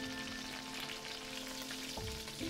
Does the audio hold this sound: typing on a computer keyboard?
no